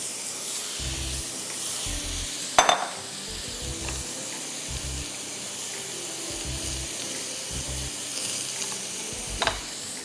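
Chicken seasoned with salt and crushed black pepper sautés in a pan with a steady close sizzle. A few sharp clanks of utensil on pan stand out, and low hum bursts come and go underneath.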